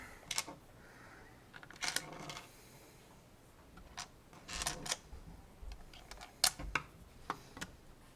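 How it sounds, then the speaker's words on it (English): Four small screws drop and rattle into the plastic housing of a small pond aerator, giving sparse, close clicks and tiny clatters in a quiet room. "lay it back on its back, drop these 4 screws in there"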